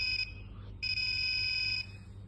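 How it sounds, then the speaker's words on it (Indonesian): An Arduino electronic buzzer beeps twice, a short high-pitched tone followed by a longer steady one, fairly quiet against a low background hum. "buzzer akan berbunyi seperti ini terus"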